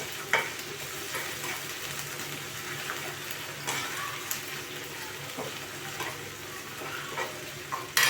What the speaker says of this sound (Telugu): ఈ అల్లం వెల్లుల్లి పేస్ట్ అనేది పచ్చి వాసన పోయే వరకు ఫ్రై చేసుకోవాలి